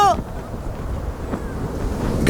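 A strong wind blows hard and steadily outdoors, buffeting the microphone with a continuous low rumble, briefly joined at the start by a high voice.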